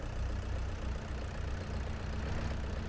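An old tractor idles in Farming Simulator 22, a steady low-pitched engine rumble with a faint knocking pulse, continuous and close, with no talking.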